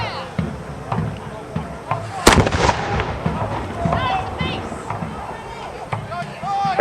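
Muskets fire in a volley at an outdoor English Civil War reenactment, one sharp loud report standing out over crowd chatter and scattered clatter, with voices talking throughout.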